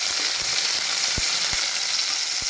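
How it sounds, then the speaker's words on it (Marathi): Onion is sautéed in hot oil in a pan, giving a steady, close sizzle with a few soft taps of a stirring spoon, and no voices. "तर कांदा 1-2 मिनिट फक्त तेलावर परतून घ्यायचा."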